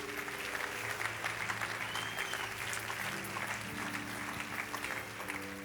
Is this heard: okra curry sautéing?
no